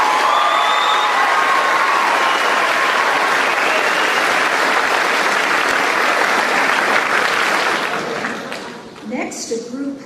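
An audience at a high school senior excellence awards ceremony gives a long round of applause, loud and sustained with many hands at once, thinning and fading near the end as a voice starts.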